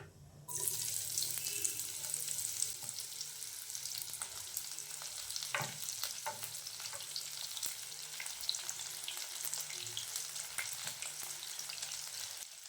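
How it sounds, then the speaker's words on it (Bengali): Nigella seeds, then chopped onions, frying in hot oil for a Bengali rui fish curry, giving a steady close sizzle with occasional stirring scrapes and clinks throughout. "এবার ওই তেলের মধ্যে ফোড়নে আমি এখানে কালো জিরে দিচ্ছি 1/4 টিস্পুন।"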